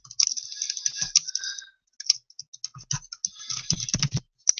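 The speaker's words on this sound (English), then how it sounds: "my typing is sloppy right now" A computer keyboard clatters close by in irregular bursts of key clicks, with short pauses between runs, while someone formats an Excel assignment.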